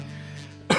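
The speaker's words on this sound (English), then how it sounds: "I'm still getting over this cough" A single short cough from a livestreaming singer recovering from a lingering cough, one sharp close burst at the very end following a brief lead-in sound.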